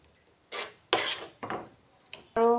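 A utensil scrapes and rubs through thickening homemade mango jelly in a pan in five short, separate strokes, close and moderately loud.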